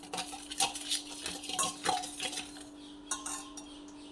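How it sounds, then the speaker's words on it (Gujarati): A spoon stirs and clinks against a metal vessel while tossing bhungla bataka, fried potatoes, with oil, giving a series of light scraping taps and clinks close by with no talking. "હવે આપણે આને સરખી રીતે મિક્સ કરી દઈશું"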